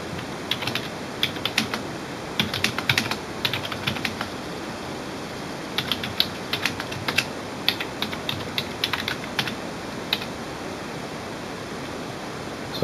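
Keys clatter in bursts of light, quick taps on a Logitech K375s Bluetooth keyboard, close up over a faint steady hiss, with short pauses between the runs of typing.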